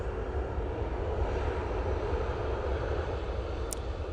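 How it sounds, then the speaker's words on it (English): Ryanair jet taxiing off the runway at Manchester Airport, a steady low engine rumble and broadband hiss, moderately distant and even throughout with no talking. "Ryanair vacating via Victor Bravo, and got some gorgeous sunlight on it"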